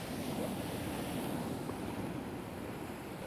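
Ocean waves breaking on rocks at the shore, a steady broadband wash of surf close to the microphone with wind noise blended in, constant and loud throughout, with no speech.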